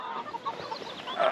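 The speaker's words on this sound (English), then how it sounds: "Let's check on our chickens here." Chickens clucking in short, irregular calls, fairly close, with a slightly louder burst near the end. No talking.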